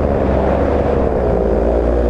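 Loud, close engine drone of a 2015 paramotor trike held at under half throttle, a steady buzzing roar with no breaks and no voices.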